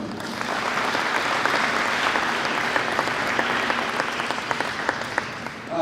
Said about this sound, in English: let's give a round of applause, even before we bring out the athletes